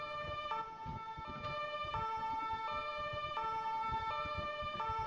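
Ambulance siren from the Emergency 4 video game with a Debrecen 2017 mod, a steady repeating two-tone wail that holds loud and continuous throughout, over a low rumbling game background, with no talking.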